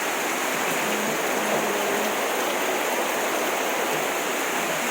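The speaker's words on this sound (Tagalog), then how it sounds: "Lakas ng ulan." Heavy rain pours steadily in Achila during a downpour, a dense, continuous roar of water close by with no voices, loud and unbroken throughout.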